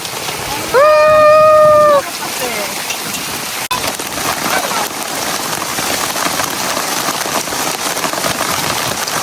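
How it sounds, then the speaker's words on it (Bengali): Heavy rain pours onto a veranda in a dense, continuous roar. Near the start a short, rising and falling tonal call sounds briefly over it. "বাইরে অনেক বৃষ্টি হইতেছে"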